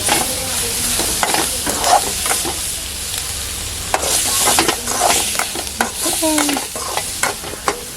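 Shallots and garlic sauté in a pan with a steady sizzle, broken by repeated scrapes and clinks of a spoon stirring through them, close and fairly loud with no talking.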